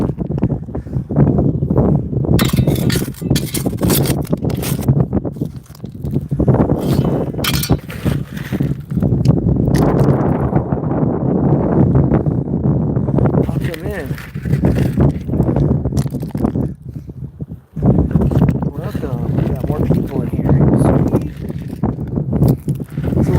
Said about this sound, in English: got the sluice running